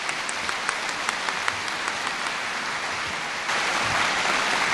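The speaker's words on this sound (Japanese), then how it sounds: "盛大な拍手でお迎えください。" An audience at a commemorative lecture on the discovery of neutrino mass claps steadily to welcome the speaker, a dense wash of applause with sharper individual claps, swelling slightly louder near the end.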